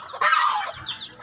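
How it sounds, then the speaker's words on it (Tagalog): Chickens on a backyard farm, a short burst of clucking close by, a loud cackle followed by softer clucks, with no talk. "Ito, meron ditong manok"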